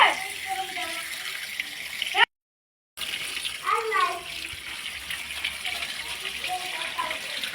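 Water from a tap runs steadily while a snakehead fish is rinsed clean at a kitchen sink, a continuous gushing splash with a short break partway through and some faint clatter underneath.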